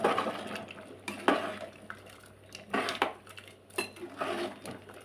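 Salt being stirred into a tomato curry in a pot: a spoon scrapes and clinks against the metal in irregular bursts, close and moderately loud, with no talking.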